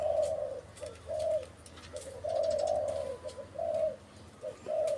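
A red-billed wild mountain dove coos outdoors in repeated soft phrases broken by short pauses, fairly close over quiet background noise and with no voices.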